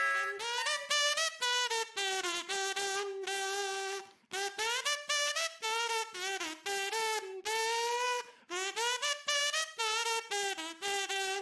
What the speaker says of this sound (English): Kazoo. It looks like a funny little whistle.